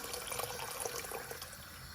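A steady stream of water, about 2.5 to 3 cups, pours into a cooking pot, running and splashing continuously, a soft even pouring sound with no other noises.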